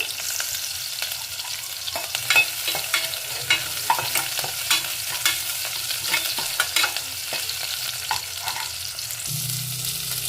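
Field bean lentils frying in hot oil while being stirred, with a steady crackling sizzle and repeated clinks and scrapes of a spoon against the pan; no talking.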